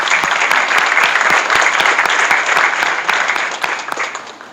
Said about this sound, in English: one more big round of applause for all of our presenters today